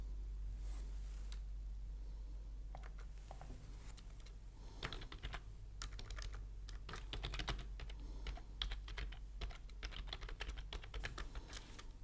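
Keys tapped on a computer keyboard while Java code is written, a close run of quick, irregular clicks that starts sparse and grows into denser bursts, with no speech.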